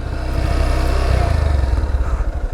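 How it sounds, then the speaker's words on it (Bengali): A Honda X Blade 160 ABS motorcycle has just started and idles close by, a loud steady low thumping engine note with a slight uneven pulse and no talk over it. "স্টার্ট নিয়ে নিছে বাইক"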